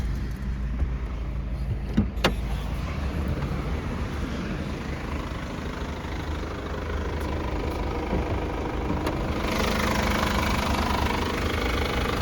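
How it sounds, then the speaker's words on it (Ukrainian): A Chevrolet Orlando engine idles steadily under the open bonnet with an even, quiet mechanical hum. A couple of sharp clicks sound near the start, and the idle runs on unchanged to the end. "Мотор робить тихенько"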